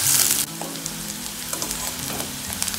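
Onions fry in a pan for lauki kofta curry, giving a steady close sizzle throughout with a few faint stirring clicks and no talk.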